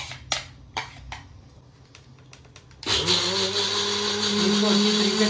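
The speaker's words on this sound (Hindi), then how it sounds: "इसको अच्छी तरीके से ग्राइंड करेंगे और बिल्कुल बारीक कर लेंगे।" Soaked rice ground in an electric grinder for kheer: a few light knocks and clatters, then the motor starts abruptly and whirs loudly and steadily to the end.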